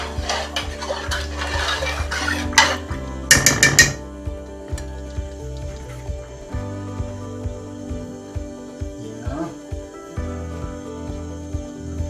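Acai simmers in a pot over an outdoor jungle cookfire while a utensil knocks and scrapes around inside it in irregular clinks and taps, with one brief burst of rapid metallic clatter near the start.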